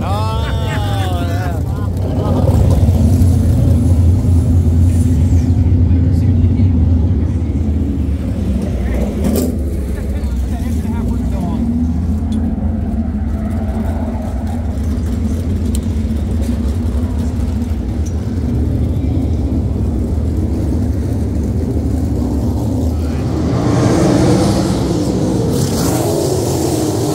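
Sprint cars roar around a dirt track during a heat race, a loud continuous engine drone rising and falling as the field circles, with people talking over the racket throughout.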